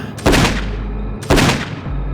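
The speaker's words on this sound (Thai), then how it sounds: "เสียงระเบิดกระสุนสองนัดก็ดังขึ้นมา" Two loud gunshots from a homemade Thai double-barrel shotgun in a forest beside a path, staged as sound effects in a Thai audio drama, about a second apart, each with a sharp crack and a rumbling tail.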